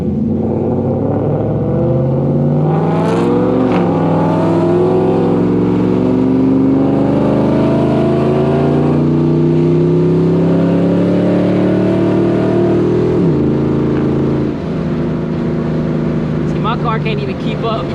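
An FBO Coyote Mustang and a New Edge Mustang accelerate hard on a back road, their engines climbing in pitch through long loud pulls with a brief dip and renewed surge, up close inside the car.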